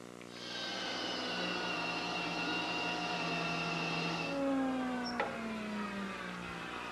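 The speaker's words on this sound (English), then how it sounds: "What I've just done is made a few passes through the joiner to get one face of the blank flat" A woodworking jointer planes one face of a wood blank, a steady mechanical whine with a low hum that then winds down in falling pitch as the cutter head coasts to a stop, with a brief knock near the end.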